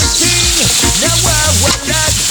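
Onion and tomato sauté in a hot pan for ginataang sitaw kalabasa with crab, giving a steady, loud sizzle that runs under music.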